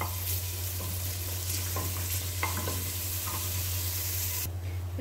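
A steady sizzle of garlic frying in hot olive oil in a pot, with occasional soft stirring scrapes and a constant low hum underneath.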